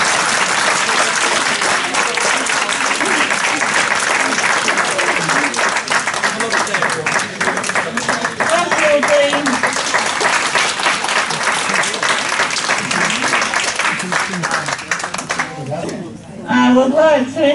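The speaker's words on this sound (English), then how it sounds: "give people a big round of applause as they come around this stage" Sustained, loud applause fills a fashion show stage event for Learning Disability Week, the dense clapping continuing throughout with crowd voices and chatter mixed in.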